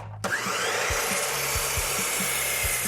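A saw cuts through a wooden table leg piece for a farmhouse-style table build, a steady, close rasping whir with a faint rhythmic thump underneath, heard alone without talk.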